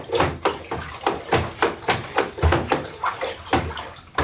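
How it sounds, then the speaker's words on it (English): Liquid for a homemade vodka mash is stirred vigorously into a vortex, with rhythmic sloshing and swishing strokes about twice a second, close and moderately loud, with no talk. "we're going to get a vortex going, just like we did the sugar and just like we did with the yeast. We're going to get it all stirred"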